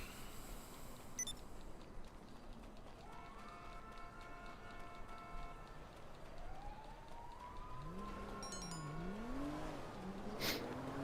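Police sirens wail in a video game, rising and falling in drawn-out sweeps at a moderate distance over a constant engine and road rumble, with no one talking.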